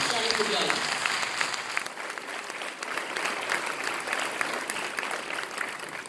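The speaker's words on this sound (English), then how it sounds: "A big round of applause, ladies and gentlemen." An audience at the 48th Shakes 2023 boys' final awards presentation gives a sustained round of applause, dense and even from start to finish, with a voice faintly over the clapping early on.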